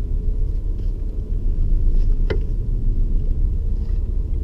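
Manual car engine idling low and steady in first gear as the clutch is slowly let out, a constant close rumble with one brief click partway through.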